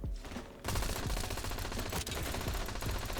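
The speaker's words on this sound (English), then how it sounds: "the Peacemaker right here is one of the best weapons you could be running in Black Ops Royale right now" Rapid automatic gunfire from the Peacemaker weapon in the Black Ops Royale battle royale video game, a loud sustained burst of close shots after a brief quieter lead-in, with no voices over it.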